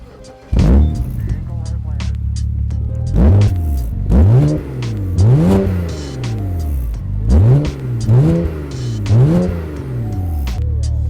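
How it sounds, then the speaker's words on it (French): A BMW 335i Touring's exhaust revs repeatedly, about six sharp rising-and-falling blips in a row, loud and close, with voices faintly underneath. "Je te fais écouter la petite ligne d'échappement."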